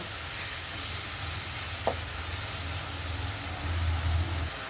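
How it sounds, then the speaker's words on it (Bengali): Mutton curry spices with ginger and chili powder sautéing in a pan, a steady close hiss of frying oil with a single soft tap partway through and low background hum. "সামান্য একটু গুঁড়ো ঝাল দিব দিয়ে এগুলো ভালোভাবে কষাই নেব"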